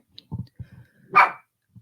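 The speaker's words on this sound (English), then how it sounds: "Don't you dare bark." A dog named Coco gives a single sharp bark close by, indoors at a desk, after a few soft low growl-like sounds.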